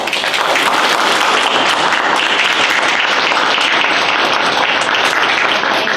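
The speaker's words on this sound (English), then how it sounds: "So I'd like everyone to give the candidates a big round of applause." Sustained, dense applause from an audience at a women's club meet-the-candidates night, steady and loud for the full six seconds with no talk over it.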